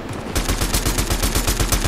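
Rapid automatic gunfire in the Fortnite video game erupts after a brief pause, a fast, even burst of loud sharp shots with no talk.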